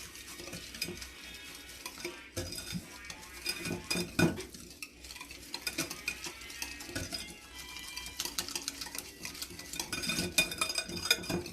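A spoon stirs a mixture in a bowl for homemade coffee cookies, making close, irregular scraping and clinking strokes that come in bursts, with no talking.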